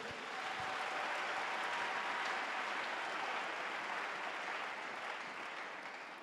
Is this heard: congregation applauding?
yes